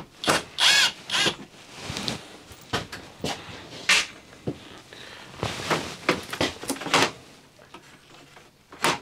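Short bursts of a power tool driving out screws from the plastic cover of an RV air conditioner, whirring in several separate spurts with clicks and handling noise between them.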